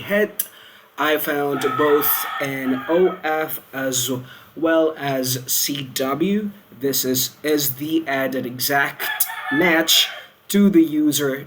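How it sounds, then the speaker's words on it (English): A rooster crows repeatedly in the background under steady, continuous speech from a man reading aloud, its calls rising intermittently through the talk at moderate loudness. "I know you guys can hear a rooster."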